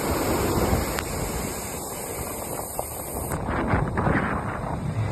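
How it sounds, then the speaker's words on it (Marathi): Heavy water pours steadily down the step waterfall at Chalkewadi as a loud, continuous, close roar, with no voices and a rush of wind against the microphone. "तर अशा प्रकारे आता आपण पोहोचलेलो आहोत स्टेप वॉटरफॉल जवळ. पाणी खूप आहे"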